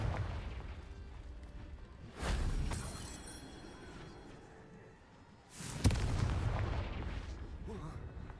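Confringo fire spell blasts in Hogwarts Legacy, two heavy booming explosions a few seconds apart, each a sudden loud burst fading into a rumbling tail.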